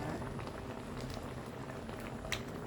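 Pork rib chu chee curry, made with Thai herbs and rich with evaporated milk, simmers in a pot with a soft, steady bubbling close by, faint and continuous with no voices.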